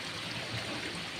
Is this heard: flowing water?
yes